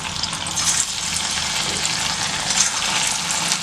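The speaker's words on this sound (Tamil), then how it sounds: "இந்த கிழங்கை நம்ம ஃப்ரை பண்ணி எடுத்துக்கலாம்" Pieces of tuber fry in hot oil, giving a steady, dense sizzle and crackle up close that holds at an even level throughout.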